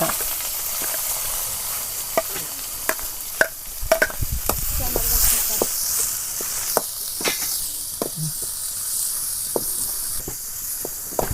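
Garlic and onion frying in a pan, a close hissing sizzle with frequent sharp pops and crackles and occasional stirring, steady and fairly loud without speech.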